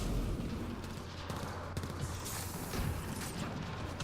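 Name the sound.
sniper rifle shots in video game Mass Effect Andromeda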